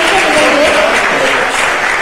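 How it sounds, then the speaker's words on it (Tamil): Audience at a formal ceremony held in a governor's residence breaks into loud, sustained applause, a dense wash of clapping with no pauses. "ஒரு கைத்தட்டல் கொடுங்க."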